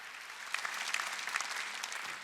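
Church congregation at a Sunday worship service clapping together, a dense, even burst of applause from many hands, fairly distant and sustained for a couple of seconds.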